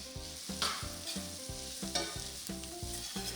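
Onion, garlic, butter and canola oil sizzle loudly in a pan as a utensil stirs them, with repeated rhythmic scrapes roughly every half second over constant frying hiss; no voices.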